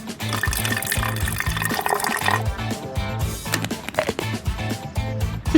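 Water pours steadily into a small dog paw cleaner, a continuous splashing rush with a repeating low mechanical rhythm underneath, fairly close.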